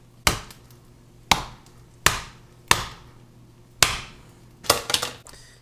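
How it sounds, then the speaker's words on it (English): A knife cuts through a crispy, pan-fried tortilla with six sharp, crunchy chops at uneven intervals, each clear and close. The last cuts come as a quick crackling cluster. "Time to do some slicing and dicing."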